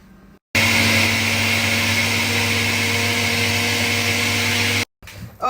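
A kitchen blender runs loud and steady, mixing fish pepper soup ingredients with plenty of chili pepper, starting abruptly and cutting off after about four seconds.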